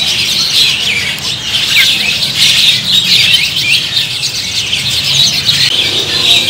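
Air mancur songbirds in cages at a busy bird market fill the air with loud, overlapping high chirps and tweets, a constant dense chorus close at hand with no speech.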